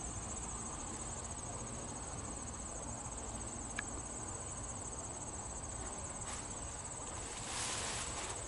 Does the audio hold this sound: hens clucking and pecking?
no